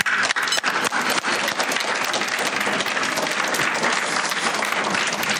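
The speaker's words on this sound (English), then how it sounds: "Yeah, one round of applause." Audience applause at a university athletics hall of fame induction ceremony, a dense, sustained round of clapping from a large crowd in a hall, steady and loud throughout with a few scattered louder claps early on.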